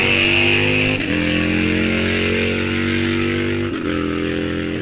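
A 2014 BMW motorcycle roars down a drag strip lane at a raceway, its engine loud and close, climbing in pitch through quick gear shifts.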